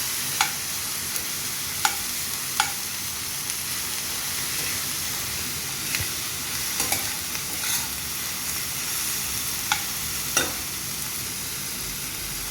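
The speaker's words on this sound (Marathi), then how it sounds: "आता हे सर्व आपल्याला व्यवस्थित परतून घ्यायचे आहे।" Chopped onion, already salted, sautés in a pan for a yellow potato sabji, giving a steady close sizzle throughout with sharp scraping clicks from the stirring spoon every few seconds.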